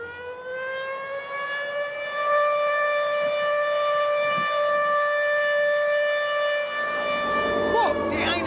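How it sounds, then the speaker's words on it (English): A British air raid siren winds through a loud, steady rising-and-sustained wail with stacked harmonic tones, holding for several seconds before the pitch starts to slide and break up near the end. "Air raid sirens were only removed from British towns 20 years ago."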